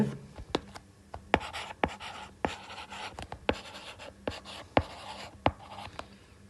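A pen or pencil drawing a geometry figure by hand on paper, with a steady run of sharp tapping strokes and scratchy scribbles, close and fairly quiet with no talking.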